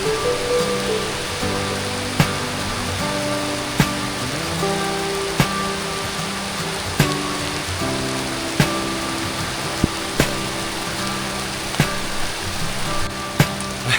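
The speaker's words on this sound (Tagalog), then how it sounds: "Dito nga nagsimula ng bumuhos ang ulan" Heavy rain pours down outdoors at a fishing spot on a university campus, a loud continuous wash of drops broken by regular sharp ticks and some low musical tones underneath.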